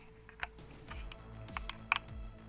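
A Sony CFexpress Type A memory card snaps into a card holder with a few small, crisp plastic clicks and ticks, close up and quiet.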